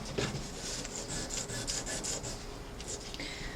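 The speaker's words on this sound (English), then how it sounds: "I take a piece of 600 grit sandpaper, and I might even use a piece bigger than this, and I like to get it wet." Wet 600 grit sandpaper rubbed flat across a patterned steel plate, giving a faint, steady, close scratching hiss with repeated back-and-forth strokes and no talking.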